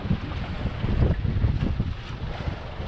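Strong wind buffets a sailboat out at sea on a clearing day, a steady roaring rush with gusty low rumble, sounding close and loud and continuous, with faint water motion beneath and no talking.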